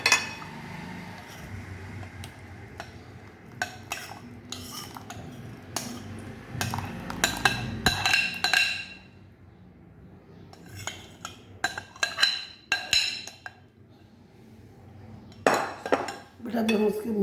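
Fruit chaat with sauce is mixed in a bowl, with repeated clinks and scrapes of a spoon against the dish in uneven bursts and short pauses, close by, and a voice speaks in between.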